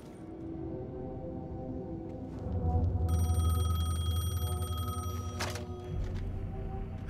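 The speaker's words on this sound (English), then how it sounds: "The payphone was ringing." A payphone in a video game rings with a bright electronic trill over a low ambient hum, followed by a sharp burst of noise as the ringing stops.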